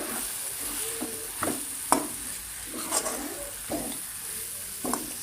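A spoon stirs a taro masala curry with chili powder in a pan. Repeated scraping strokes and light clicks recur every second or so over a low, steady frying hiss, with no talking.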